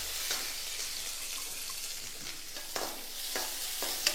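Chopped onions fry in oil with curry leaves and dried chillies, giving a soft, steady sizzle. A few scraping stirs of a spoon against the pan cut through the sizzle, all heard close up and fairly quiet.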